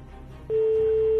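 A steady, unbroken telephone ringing tone begins abruptly and holds on a phone line, following a moment of low line noise.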